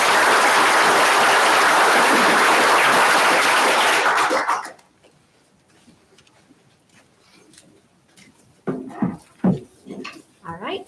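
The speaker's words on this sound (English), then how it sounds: "Let's give them another round of applause." An audience at a Broken Arrow city council meeting breaks into loud, dense applause for about five seconds, then it cuts off into a quiet room with scattered knocks and a voice starting to speak.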